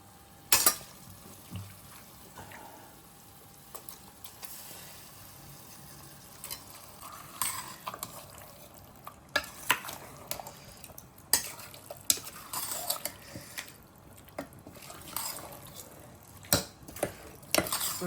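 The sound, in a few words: marinated chicken being added to biryani masala in a pot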